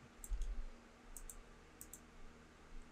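Mouse clicks on a Review Swap button in a MetaMask crypto app, heard as three faint, sharp double clicks spaced about a second apart over a quiet low hum.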